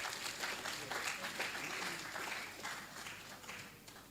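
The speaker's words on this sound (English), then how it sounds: "Let's welcome him with a round of applause." Crowd at a university inaugural lecture at UCC applauds to welcome a reverend professor, a sustained wash of moderately distant clapping that gradually fades, with voices murmuring underneath.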